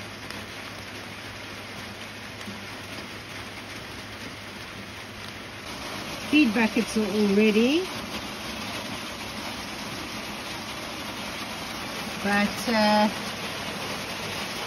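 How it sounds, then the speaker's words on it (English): Steady rain falls outdoors on a winter off-grid homestead, a constant soft hiss throughout, with someone talking briefly in the middle and near the end. "rain doesn't seem to be stopping anytime soon"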